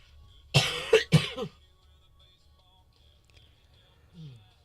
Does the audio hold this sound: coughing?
yes